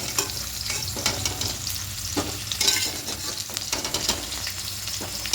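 Okra frying in oil, a close, steady sizzle broken by repeated scraping stirs and clinks of a spatula in the pan, with no talking.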